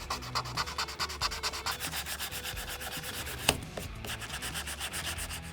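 Wood is hand-sanded with 220 grit sandpaper in quick, regular back-and-forth rasping strokes, close and fairly faint, with one sharp knock partway through.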